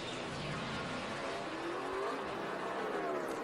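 A NASCAR stock car on four fresh tires accelerates away from its pit stop at the 2012 AdvoCare 500, a steady, rising engine roar with a continuous track-noise wash.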